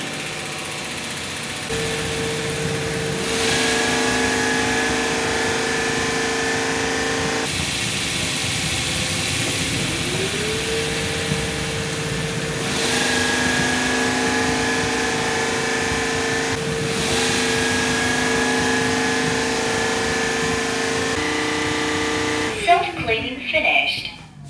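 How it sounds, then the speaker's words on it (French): An ILIFE W90 cordless wet vacuum runs its automatic brush self-cleaning cycle, a steady close motor whir with shifting tones that keeps going for over twenty seconds before ending in a short clatter. "c'est un lavage automatique pour nettoyer la brosse après toutes les épreuves qu'elle a subies"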